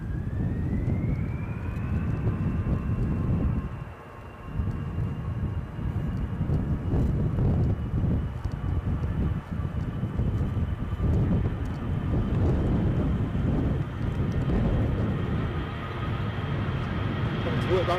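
An aircraft comes in to land at Edinburgh airport in gusty wind. Its engines give a steady, loud roar throughout, with a whine that rises at the start and then holds level.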